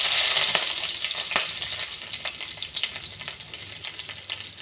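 Curry leaves sizzle and spatter steadily in hot oil in a pan, with sharp crackling pops through a continuous frying hiss, close and fairly loud with no talking.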